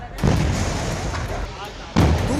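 Two heavy booming gas cylinder explosions, a couple of seconds apart, burst out over a loud, noisy background roar.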